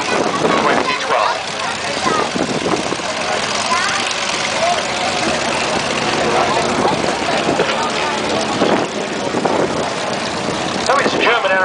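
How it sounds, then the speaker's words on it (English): A German aerobatic propeller aeroplane flies over an airshow, its engine a loud continuous drone with rising and falling surges as it manoeuvres, while a commentator talks over it throughout. "So it's a German aeroplane."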